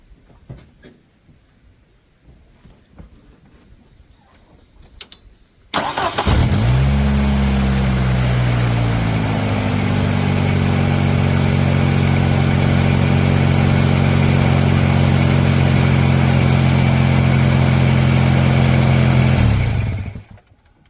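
Engine of a 1991 Ford Ranger pickup starts up and settles into a steady, loud idle close by, holding a constant hum with faint pitch shifts for about fourteen seconds before cutting off; quiet rustling precedes the start.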